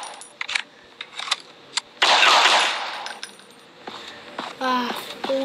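Gunfire in a horror video game set in an asylum, heard as a burst of loud, dense shots near the middle, surrounded by scattered sharp clicks and clanks, with a few louder metallic hits toward the end.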